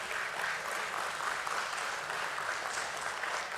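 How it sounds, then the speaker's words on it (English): An audience claps at a stock exchange listing ceremony, a steady, even wash of many hands clapping at moderate distance, sustained without pause and with no talk over it. "let's begin this beautiful day with a round of applause for all of you."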